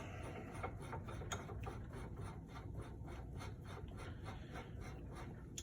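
An AAC Blackout 51T flash hider being tightened with an AAC torque tool set to 20 foot-pounds: faint, steady ratcheting clicks over a low hiss, with no voices.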